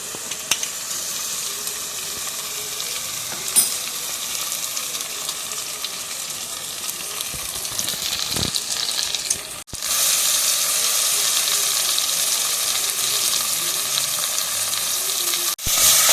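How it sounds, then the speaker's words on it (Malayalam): Ground masala and small onions frying in oil for vegetable mappas, a dense continuous hiss that briefly dips and then returns louder and steadier, with no voices. "ഈ മസാലയൊക്കെ ഇതിൽ കിടന്നിട്ട് നന്നായിട്ടൊന്ന് മൂത്ത് വരണം"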